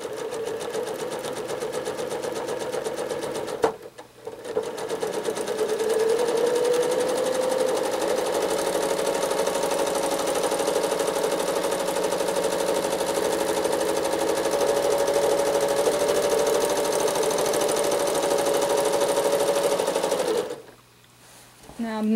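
A sewing machine stitches steadily through free-motion quilted spirals, a loud continuous needle rattle that breaks off briefly near the start and stops again at the end.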